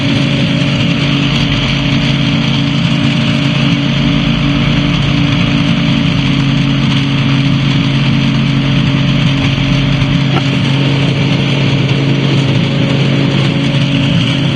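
The engine of a Challenger II ultralight aircraft runs steadily and loudly near a runway, giving a continuous droning hum with no voices over it.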